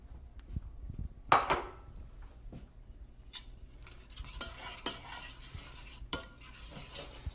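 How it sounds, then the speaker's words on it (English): Onions cooking in olive oil in a pan, with scattered clinks and scrapes of a utensil stirring against the pan over a low background, one sharper knock near the start. "Then add your onions. Kind of cook them till they're kind of translucent, a few minutes."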